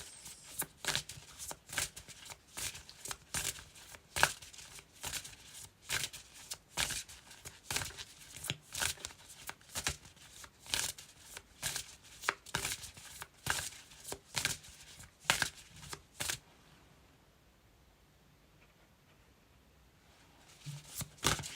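A tarot deck being shuffled by hand, close and steady, with rapid repeated card slaps in a quick rhythm for about sixteen seconds before falling quiet, then a faint resumption at the end.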